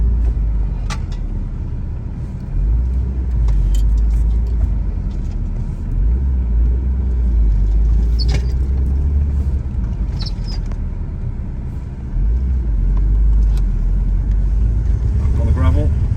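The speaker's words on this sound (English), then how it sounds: "let's get it on the grass, hit the brakes a few times, get the ABS to kick in." Audi TT braking hard on grass with the ABS kicking in, a loud close rumble of the car rolling over uneven ground that swells and dips, with brief clicks and knocks.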